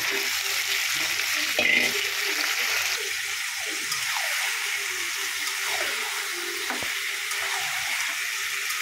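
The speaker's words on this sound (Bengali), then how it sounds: "মাংসটা ঢেলে দেবো।" Chicken meat poured into a hot pan sizzles and fries with a steady, close hiss, with a brief clatter near the start and occasional stirring scrapes, and no talking.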